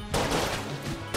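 Rapid bursts of weapon fire in the video game Enter the Gungeon, a dense rattle of shots running almost the full length, with a sharp new burst right at the end.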